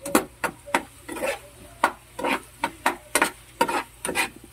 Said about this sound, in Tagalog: halu-haluin lang po natin